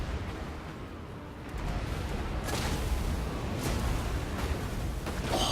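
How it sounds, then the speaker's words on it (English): Skaven warp lightning cannons fire and strike in the battle game Total War: Warhammer 2. A constant rumbling din of battle swells louder partway through, with crackling bursts and impacts layered on top. "I love watching the warp lightning cannons when they hit them and go through them"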